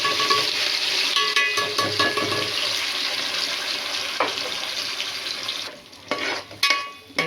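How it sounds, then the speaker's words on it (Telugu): Green chillies, onion and tomato paste frying and being stirred in hot oil, a steady loud sizzle with clinks of a utensil, easing off near the end into quieter, uneven scraping. "ఈ ఆయిల్లో బాగా ఫ్రై అవ్వాలి."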